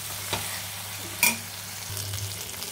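Tomato chutney stirred in a pan on the heat, a low simmering sizzle with a couple of sharp spoon scrapes against the pan, brief and close.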